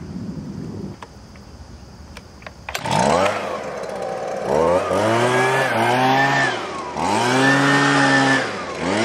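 A Husqvarna 125B gas leaf blower starts up loud and close, its two-stroke engine roaring and surging in repeated throttle swells as it blows off a driveway, with no voices.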